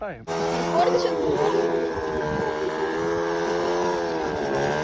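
The engine of an IZh Jupiter motorcycle with sidecar, badly damaged, starts up abruptly and keeps running loud and close, its pitch rising and falling as it revs, with voices mixed in, in a field.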